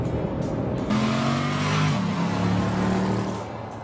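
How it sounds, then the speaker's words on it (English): A Jeep Grand Cherokee SRT8 laps the Willow Springs circuit, its engine droning loud and steady with rising revs and a gear change midway, fading slightly at the end. "That's a lap of Willow Springs in the Jeep SRT8."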